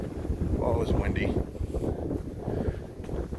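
Wind buffets a microphone outdoors at a farm with old machinery, a loud uneven low rumble gusting across the whole clip, with a voice speaking briefly underneath.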